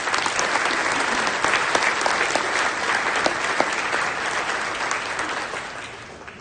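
A conference audience at a global summit plenary applauds a speaker onto the stage, dense sustained clapping from a large crowd that fades slightly at the end.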